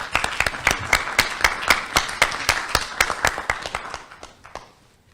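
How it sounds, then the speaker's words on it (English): Audience at a seminar applauding to welcome a keynote speaker, a steady burst of many hands clapping that thins out and fades over about five seconds. "Let's welcome him with a warm applause."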